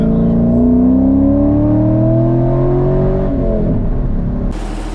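A convertible or targa-top car pulls away and accelerates: a loud, close engine note rising steadily in pitch through the gears, then cutting to rushing road and wind noise at the end.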